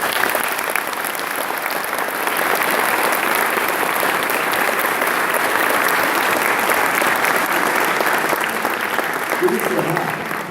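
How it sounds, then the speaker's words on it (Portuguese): An audience bursts into sustained, dense applause that holds steady for about ten seconds before tapering at the very end. "Por isso eu peço a segunda salva de palmas."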